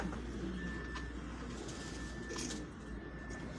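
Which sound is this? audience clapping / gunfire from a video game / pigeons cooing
pigeons cooing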